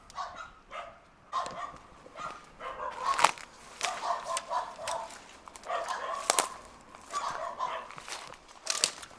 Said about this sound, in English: You can probably hear those dogs, but they're on the other side of the wall